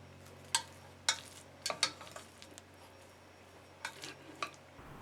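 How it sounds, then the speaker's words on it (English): Chopsticks work through cooked rice in a bowl, giving a handful of soft, scattered clicks and taps against the dish over quiet background hum. "Use chopsticks to separate the rice grains."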